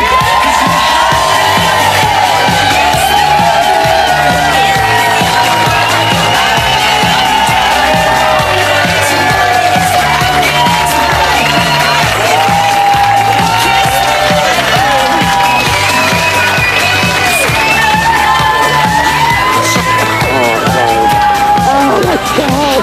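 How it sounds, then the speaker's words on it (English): A large Celebrity Big Brother UK studio audience claps and cheers loudly and continuously after an eviction, with whoops rising over steady music throughout. "Give her another round of applause."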